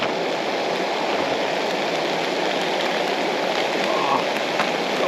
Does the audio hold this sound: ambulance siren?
no